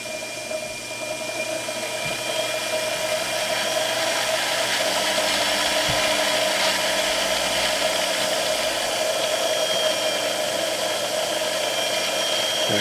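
A belt-drive conversion machine motor runs steadily at high RPM, a continuous whirring mechanical drone with a faint ratcheting texture and a brief clunk partway through, no talk.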